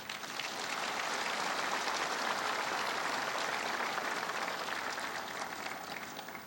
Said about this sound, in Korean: 여러분 이분들께도 따뜻한 유로의 박수를 부탁드립니다.